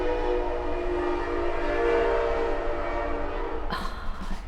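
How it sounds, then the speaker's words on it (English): A train rumbles past steadily with a sustained horn blaring, loud and close, ending with a clatter near the end. "Did you hear that train?"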